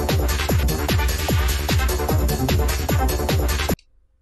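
Psytrance saw-type synth lead from a track, playing fast repeated plucky notes with falling pitch sweeps over a driving beat for under four seconds, then cutting off abruptly.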